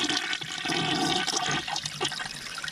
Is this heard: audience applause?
no